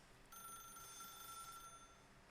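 A telephone bell rings in The Stanley Parable, a quiet, steady electronic trill that holds for about a second and a half, then fades, with no voices.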